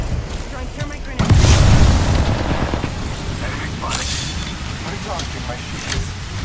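Thermite grenade blast in a video game: a sudden heavy boom with a crackling burst that rolls on for a moment, then settles into steady background combat noise.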